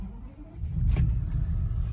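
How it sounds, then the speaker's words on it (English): A Rolls Royce Phantom engine starts with the key pushed in, a low rumbling crank that catches at about one second and settles into a steady, close idle hum. "That starts the ignition"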